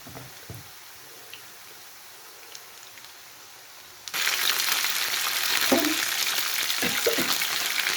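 Chicken pakora frying in oil over a low flame, a steady close sizzle that jumps louder midway and holds, with occasional clinks and stirs; no speech.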